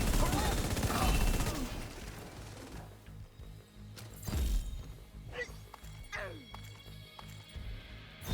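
Gunfire in the shooter The Division, with a loud rapid burst in the first seconds, then a few separate heavy shots and ricochet-like whizzes that fade into quieter background noise, with a voice talking over it.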